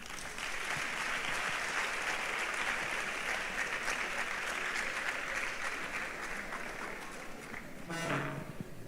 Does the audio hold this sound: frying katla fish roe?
no